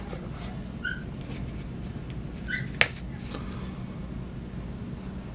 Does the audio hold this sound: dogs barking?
yes